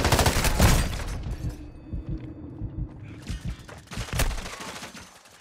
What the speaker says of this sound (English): Decoy grenade here.